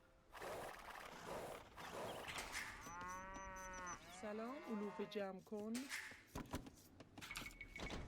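Cartoonish cow moos from a strategy video game, several drawn-out, tonal lows that rise and fall over a few seconds, mixed with game effects and heard under a commentator's talk.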